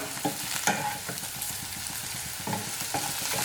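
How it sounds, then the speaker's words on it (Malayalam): Okra (vendakka) frying in a pan on medium flame for a sadya-style kichadi, a soft, steady sizzle broken by periodic stirring scrapes and clinks up close, no talking. "ഇപ്പം ഈ വെണ്ടക്കായ ചെറുതായിട്ടൊന്ന് ഫ്രൈ ആയി തുടങ്ങിയിട്ടുണ്ട്."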